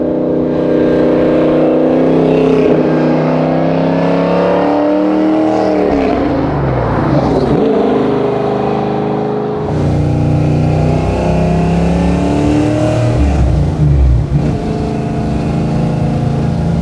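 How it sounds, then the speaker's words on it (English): An Eleanor Mustang, the car from Gone in 60 Seconds, roars loud and close while being driven, its engine revving up and easing off continuously with a brief dip in pitch midway before building again. "The handling on this car is exceptional,"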